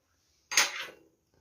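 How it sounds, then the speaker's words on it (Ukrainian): A mixing bowl is picked up and set down while a New Year's meat salad is being made, giving one short, close clatter of kitchenware that fades within half a second, followed by a faint tap. "Зараз візьму миску."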